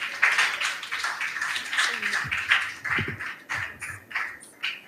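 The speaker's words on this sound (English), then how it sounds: "Let's give them a big round of applause." Applause from an audience at a junior high school academic quiz contest, a dense steady patter of clapping that carries through most of the stretch, with a few voices mixed in.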